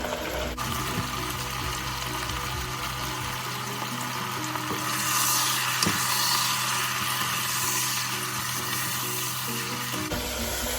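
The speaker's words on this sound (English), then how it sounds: "We're just going to fry it a little bit." Beef sizzles steadily in a hot pan for a low-carb Filipino caldereta, a continuous close frying hiss with faint stirring and no talking.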